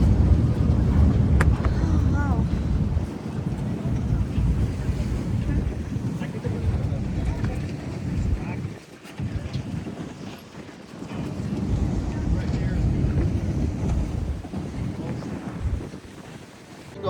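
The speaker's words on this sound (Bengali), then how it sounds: "এটা আমাদের বোট" A boat runs across the Caribbean Sea, with a steady low rumble of engine and water mixed with heavy wind buffeting the microphone. The wind eases briefly midway, and voices talk faintly in the background.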